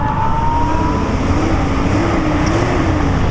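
Turbocharged 10th-gen Honda Civic Si engine in a car driving just behind, a steady loud engine drone with a slowly wavering pitch throughout.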